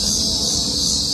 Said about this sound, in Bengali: কি ডেঞ্জারাস ঝিঝি পোকা ডাকছে দেখ গাছের থেকে